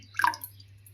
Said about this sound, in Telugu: కొన్ని వాటర్ పోసి